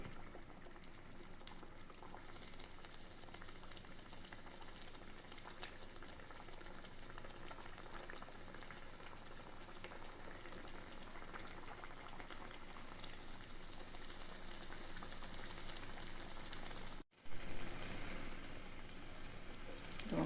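Nippattu rice crackers deep-frying in oil in a small pan over medium heat, a constant soft bubbling hiss that runs on steadily and quietly, with a brief dropout near the end.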